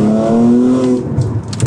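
A car engine revs hard at high rpm through a valved exhaust, a loud steady exhaust drone with rising harmonics, fading into rougher mechanical noise near the end.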